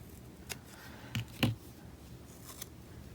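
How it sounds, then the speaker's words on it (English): Sticky scissors snip through stickers for a planner, giving a few quiet, separate cuts with short pauses between them. "These are my junky scissors because they're sticky now because of all of the cutting that I've done"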